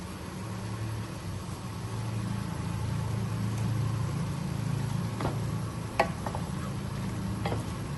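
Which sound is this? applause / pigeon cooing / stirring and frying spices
stirring and frying spices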